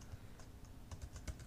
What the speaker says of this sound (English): we'll just click on our photo and start typing